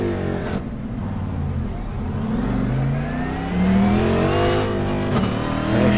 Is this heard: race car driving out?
yes